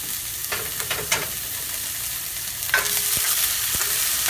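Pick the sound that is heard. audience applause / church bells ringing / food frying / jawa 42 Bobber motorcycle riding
food frying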